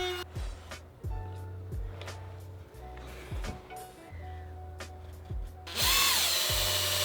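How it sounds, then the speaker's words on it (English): A power drill pre-drilling holes in wood for a router jig handle, whirring in several short bursts with a louder, higher-pitched run near the end, close and with no talking. "Pre-drill some holes and the handle will be set"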